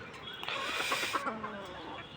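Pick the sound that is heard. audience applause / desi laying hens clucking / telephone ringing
desi laying hens clucking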